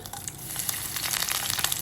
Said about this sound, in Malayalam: വെളിച്ചെണ്ണ ചൂടാകുമ്പോൾ കുറച്ച് കടുക് ഇട്ട് കൊടുക്കുക കടുക് പൊട്ടിയതിന് ശേഷം